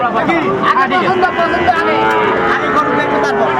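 Cattle moo at a busy livestock market, the drawn-out lowing repeating over a constant babble of bargaining voices and crowd noise.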